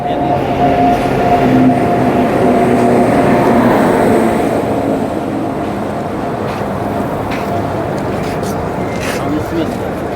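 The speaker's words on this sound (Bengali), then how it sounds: "চলো, ট্রেন ঢুকছি কিন্তু।" The Black Diamond Express rolls into a station platform with a loud rumble and rattle of wheels, its sound slowly fading over several seconds while people talk over it.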